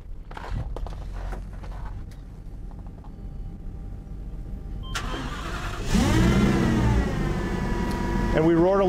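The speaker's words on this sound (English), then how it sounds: "And we roar to life on the propane bus." Propane-powered Bluebird school bus engine cranking and catching, starting after a few seconds of quiet clicks and hum, then roaring to a loud, rising idle with a revving surge near the end.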